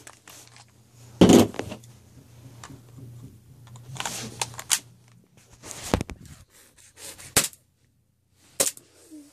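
A KWA TT33 airsoft pistol fires a handful of sharp, isolated cracks spaced unevenly over several seconds, with faint handling clicks between shots, close and fairly loud.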